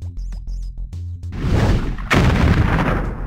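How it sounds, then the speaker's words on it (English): Tank cannon fire in a cartoon kids' rescue adventure game: a brief musical jingle gives way to a loud, rumbling burst of booming shots, with a second heavy blast hitting midway and the barrage sustaining to the end. "Neutralizing tank is ready. Open fire."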